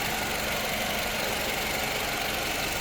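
A 2011 Toyota Camry XLE's 4-cylinder engine idles with a steady, even hum, close and constant throughout with no talk.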